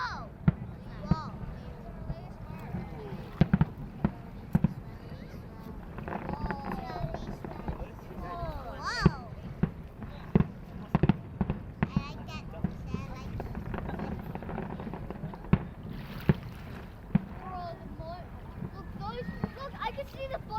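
Perth's Australia Day fireworks in 2024 go off with sharp, scattered bangs and crackles. The bursts are spread unevenly across the display and partly buried under the near, excited chatter of onlookers.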